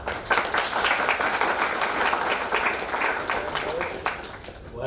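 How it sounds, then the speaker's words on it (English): An audience applauds steadily for several seconds at the close of a leadership session, a dense wash of many hands that thins out near the end. "Why are they applauding?"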